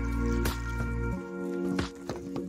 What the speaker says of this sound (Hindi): अब इसमें हम पानी रखेंगे।